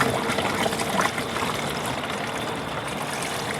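Drained CVT fluid from a 2012 Nissan Rogue 2.5 S pours into a gallon jug, a close, continuous gurgling trickle that stays fairly even, with no talking.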